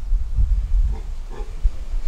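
Pigs on a Kenyan pig farm grunt and oink in low, rough bursts that recur through the moment over steady farmyard rumble, with no talking.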